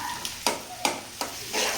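Food sizzles in a hot pan while a utensil scrapes through it in a few quick strokes, steady frying hiss underneath.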